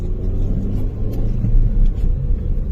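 A rough-running car drives steadily, its engine giving a loud, constant low rumble and hum with small swells in intensity and no voices over it.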